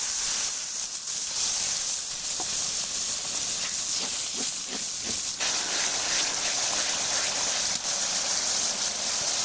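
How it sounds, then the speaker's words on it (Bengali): Ginger, garlic and cumin spice pastes frying in a pan let out a loud, steady sizzling hiss once a little water is added, and it keeps up evenly with no voices. "এবারে সামান্য একটু পানি দিয়ে দেবো"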